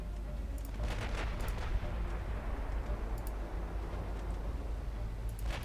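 Enemy warships firing and exploding in Ultimate Admiral Dreadnoughts naval combat: scattered distant gun reports and muffled blasts over a constant low rumble, quiet and irregular.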